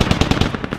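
Fast automatic gunfire in the infantry shooter Squad, a loud burst of about eight close rapid shots.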